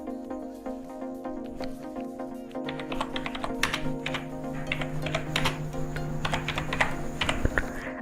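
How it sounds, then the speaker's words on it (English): Quick, irregular keystrokes tap on a computer keyboard while an app name is entered. The clicks are soft and close over a faint, steady background hum. "Now type here your app name."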